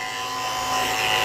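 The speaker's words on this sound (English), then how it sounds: "she's got a ton of hair in her feet. So I'm gonna shave all that out." Electric dog clippers fitted with a 30 blade buzz steadily and close up while shaving the hair from a Bichon-Poodle mix puppy's paw pads, a continuous hum that rises slightly in loudness.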